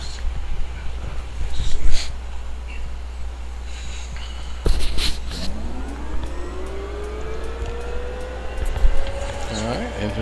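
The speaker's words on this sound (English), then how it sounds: "engine seems to be spooling up the way it should." A Bell UH-1 Huey helicopter turbine engine spools up in the DCS flight simulator, its whine rising steadily in pitch over several seconds beneath a constant low rumble, with a voice talking at points.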